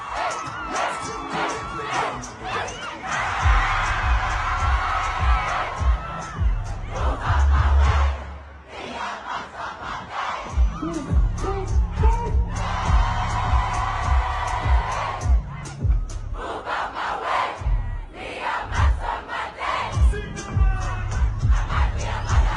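A large festival crowd roars and cheers in loud sustained waves, shouts and whoops rising and falling through a long continuous swell with no clear speech.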